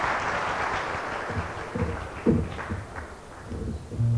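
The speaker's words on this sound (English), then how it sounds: "Give him a round of applause." Audience applause for a performer at a stand-up comedy show, a steady wash of clapping from a crowd that holds through the whole stretch and swells slightly near the end.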